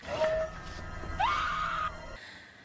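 From a TV drama scene, a woman lets out a short, shrill scream that rises and holds briefly, following a faint earlier cry over a quiet, hollow background.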